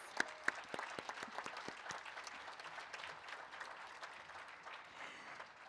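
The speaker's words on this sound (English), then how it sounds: "Let's give him a round of applause." Applause from a commencement audience after a call to honor first-generation graduates, a faint, distant patter of many hands with a few sharper claps near the start, fading slightly over about six seconds with no talk.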